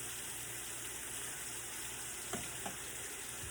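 Butter melting and sizzling in a pan for a stir fry, a steady close crackling hiss with a couple of faint clicks partway through.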